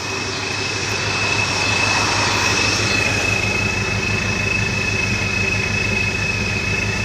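A supercharged New Edge Ford Mustang GT with a Vortech V1 Ti-Trim blower, running a bit rich, drones steadily and loudly with a high supercharger whine on top, holding an even tone throughout.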